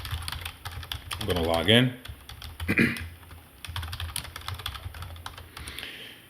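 Computer keyboard typing while logging in to a sales funnel website: rapid clicky keystrokes running through the whole stretch, close and fairly quiet, with someone speaking over the first part.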